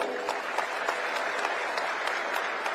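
An audience claps at the inauguration of renovated facilities at Civil Hospital, Ludhiana, with dense, steady applause from a sizeable crowd throughout.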